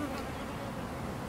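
Dense, steady buzzing of many honey bees at a hive entrance fills the space, a close continuous drone with no voices.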